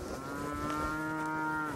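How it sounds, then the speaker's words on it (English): Cattle at feeding time let out a single long, clear moo lasting under two seconds, close and fairly loud, with no talking over it. "That sound only means one thing to Donnie Moore's cattle"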